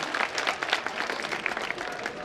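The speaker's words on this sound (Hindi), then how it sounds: "जोरदार तालियों के द्वारा इनका स्वागत व अभिनंदन" Brief burst of crowd clapping welcoming a mother onto the stage at a parents' worship day event, moderately loud and scattered, with some individual claps distinct.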